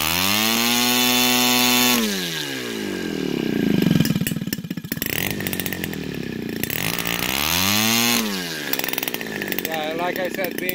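An Evolution 35 GT gas engine on a model aircraft, converted to CH CDI ignition and swinging a heavy prop, revs up and down with loud buzzing sweeps and brief surges, running close by without stalling.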